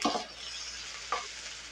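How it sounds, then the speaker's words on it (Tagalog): Alugbati (Malabar spinach) sizzles in a hot pan, with two quick scraping stirs about a second apart over a soft, steady frying hiss, close and fairly quiet, with no talking. "Luto muna tayo guys ng alugbati."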